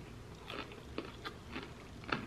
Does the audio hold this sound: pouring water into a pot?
no